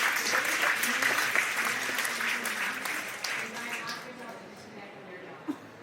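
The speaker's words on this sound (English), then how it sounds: "Give me a round of applause." An expo audience claps for a speaker, a full burst of applause that is loud at first, then thins out and fades to near quiet, with one sharp knock near the end.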